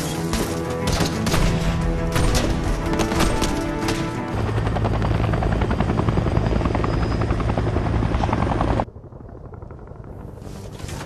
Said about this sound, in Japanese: ヘリだ。